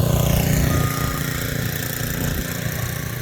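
Steady, loud low-frequency rumble and buffeting of wind blowing across a microphone, constant throughout with no voices.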